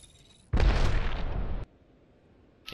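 A grenade blast in Apex Legends erupts suddenly, a loud deep boom with a rumbling roar that holds for about a second before cutting off, then quiet game ambience.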